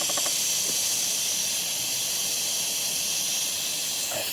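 Brake cleaner sprayed from an aerosol can onto a Johnson 25 hp outboard engine, one loud continuous hiss lasting several seconds close up, with a few faint clicks at the start and end.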